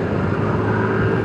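A car passes on a rural road while a scooter rides along, its steady engine and road rumble droning loudly and evenly with no talk.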